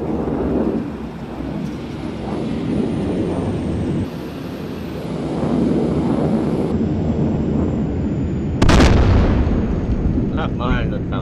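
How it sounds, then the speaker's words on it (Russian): An aircraft fires in the video game ArmA 2 ACE: a continuous engine roar with dull distant thuds, then a sharp, loud burst near the end, while voices talk over the game. "Нормально там самолет стреляет"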